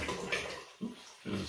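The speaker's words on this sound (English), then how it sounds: "You can bring the water on your head and tip it in here, pour it in." Water is tipped by hand into the open top of a Hypo 7.5 hypochlorous acid machine, giving a soft splashing pour in uneven bursts.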